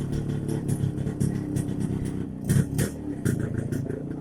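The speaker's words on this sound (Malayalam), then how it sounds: "സെക്കൻഡ് ഗിയറാണ് പോകുന്നത്. ഒരു പ്രത്യേക വൈബാണ് സൗണ്ട്. ട്വിൻ എക്സോസ്റ്റ് ആണ് ഇതിന്." A Yezdi D250 motorcycle with twin exhausts rides in second gear, its engine thrumming in a steady, throaty pulse close by, with some mechanical clatter and small rises in revs.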